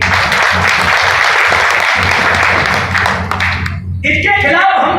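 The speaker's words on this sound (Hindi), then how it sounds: "बजाओ ताली।" Seminar audience in a hotel clapping loudly and continuously, a dense burst of applause that thins out toward the end as a voice starts speaking over it.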